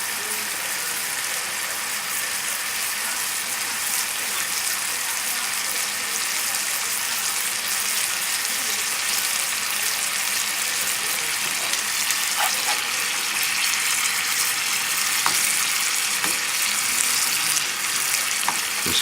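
Sauce with shallot and mushroom reducing in a pan beside chicken breast, a steady bright hiss of sizzling bubbles, loud and continuous at close range with occasional faint pops.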